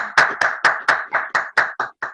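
Applause from an audience at a conference, about ten crisp, evenly spaced claps heard close and clearly, with no talking over them.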